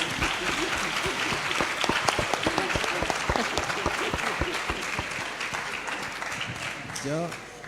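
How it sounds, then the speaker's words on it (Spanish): Audience applause during a Spanish-language public debate on employment in a changing world; a dense burst of clapping with sharp individual claps runs for several seconds, fading toward the end as a voice speaks over it. "Pueden aplaudir, pueden aplaudir"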